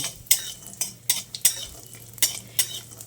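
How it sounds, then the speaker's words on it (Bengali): Urad dal dumplings (bori) frying in a pan with a utensil, a soft sizzle under a handful of sharp metallic scrapes and clinks as they are stirred, close and without talk. "এবার বিউলির ডালের বড়িটা দিয়ে একটু লালচে করে ভেজে নিতে হবে।"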